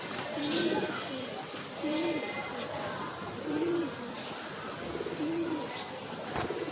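Racing pigeons kept for flying contests coo in a slow, regular rhythm, four low throaty calls spaced about a second and a half apart, close by over faint background noise and occasional talk.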